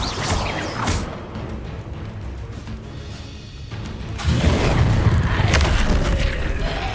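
An Incendio fire spell cast in the game Witch Simulator, a deep booming whoosh with a low roaring burst of flame that swells loudly near the end.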